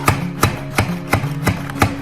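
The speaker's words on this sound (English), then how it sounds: "So it's chopping those right nicely." A knife chops green onions on a cutting board in six crisp, evenly spaced strikes over about two seconds. The cuts are close and clear, with no talking.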